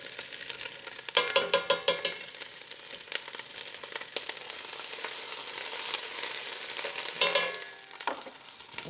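Pestata sizzling as it renders in oil in a pot, a close crackling fry with a burst of spattering pops near the start and another swell near the end.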